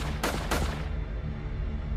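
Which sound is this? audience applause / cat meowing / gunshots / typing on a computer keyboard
gunshots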